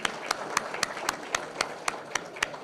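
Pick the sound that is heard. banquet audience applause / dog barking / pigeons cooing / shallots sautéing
banquet audience applause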